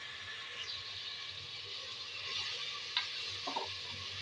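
Potatoes, peas, carrots and onions frying in oil inside a pressure cooker give a steady, moderate sizzle with a few brief clicks and clinks of stirring near the end; no one speaks.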